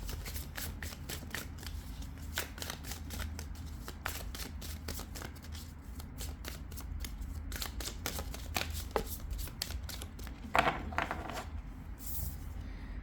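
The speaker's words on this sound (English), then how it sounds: "These are the soul contract cards." Soul contract oracle cards are shuffled by hand in a steady, dense flutter of quick riffling and slapping, close and soft, going on for several seconds without any voice.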